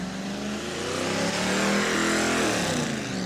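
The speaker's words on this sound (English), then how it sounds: "He's going to go until it burns the tires off those things." A car performing a tire-burning burnout at a burnout contest in New Smyrna, engine roaring loud and close at sustained high revs, with pitch shifting as it holds the throttle.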